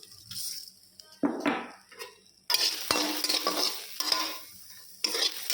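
Sesame seeds, melon seeds and almonds are dry roasted in a pan, with bursts of close scraping and rattling stirs and light clinks of the utensil on metal, broken by short quiet pauses.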